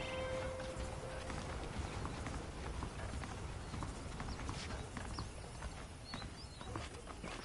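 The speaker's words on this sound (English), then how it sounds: "The horses are saddled up over here." Horse hooves clip-clop in a steady rhythm in the Western video game Red Dead Redemption, soft and distant beneath a constant bed of ambient noise.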